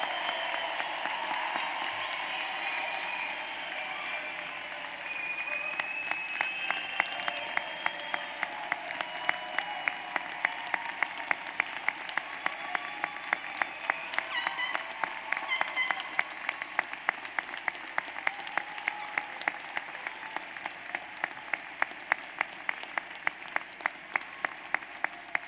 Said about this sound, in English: please join me in a final round of applause for the 140th graduating class of the University of Tulsa, class of 2017